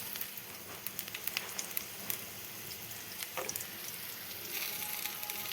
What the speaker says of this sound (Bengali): রসুন দিয়ে দিয়েছি, এবার একটু তেল দিয়ে দিচ্ছি কড়াতে।